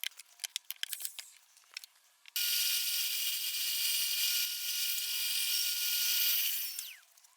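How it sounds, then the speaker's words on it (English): Bandsaw cutting wood pieces for a birdhouse, a few light clicks and taps, then a steady high buzzing cut that runs for several seconds before stopping. "I'm going to head over to my bandsaw. You can do it with a jigsaw, whatever you want"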